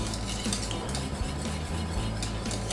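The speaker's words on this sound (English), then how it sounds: "keep whisking it every now and then to make sure that it doesn't catch on the bottom of the pan" Boiling chocolate sauce of cocoa powder is whisked in a pan over medium heat, giving a continuous scraping, swishing stir with faint metallic clinks against the pan bottom, close and steady throughout.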